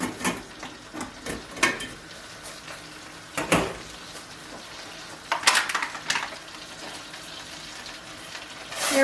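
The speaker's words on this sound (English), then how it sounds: "So I have the boiling water with the tiny bit of salt, and I'm going to just put it right in there" Fresh linguine or fettuccine is dropped into a pot of boiling salted water, giving soft splashing, bubbling and clattering stirring sounds close by, in irregular bursts rather than a steady boil.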